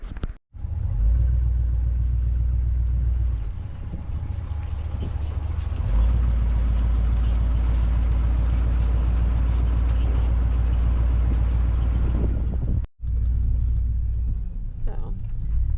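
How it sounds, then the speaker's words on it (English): 1985 Chevrolet C10 pickup on a test drive after new Rancho shocks and springs, a steady loud engine and road rumble from inside the cab, continuous with one brief cut, someone talking over it. "doing a little test drive after we got the shocks and new springs put on"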